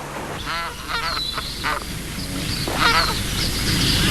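Magpie geese honking loudly and close in a wild Australian wetland, several nasal calls in quick bursts with broad background noise and overlapping cries throughout.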